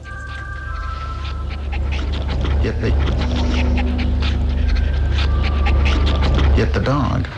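A real live watchdog that belongs to the Cocaine Museum pants in rapid, breathy huffs, close and loud over a constant low rumble, with a few whimpery squeaks near the end.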